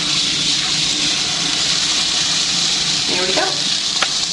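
Burgers frying over medium-high heat in a lightly oiled pan, a steady broad sizzle and hiss that continues throughout, with a short spoken remark near the end.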